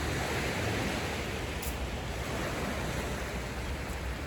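Gentle sea waves wash continuously onto a shore at sunrise, a steady hissing surge with no breaks and no voices.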